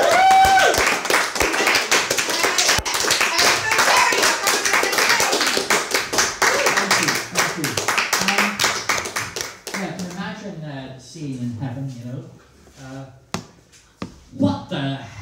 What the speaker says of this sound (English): clapping thing